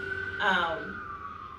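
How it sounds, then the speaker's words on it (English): A passing ambulance siren sounds at a moderate distance, its wailing tone rising briefly and then holding as it drifts by under a faint background. "So there's an ambulance going by."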